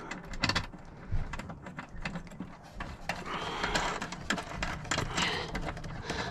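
A nut being threaded back onto a stud inside a Tesla Model Y, heard as close, quick clicking and ratcheting taps in irregular bursts, with no talking.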